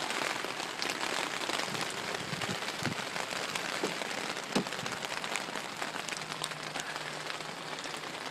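Steady rain pours down on an empty car lot, a dense continuous patter on hard surfaces with occasional heavier drips, with no voices.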